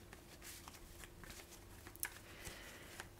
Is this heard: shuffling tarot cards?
yes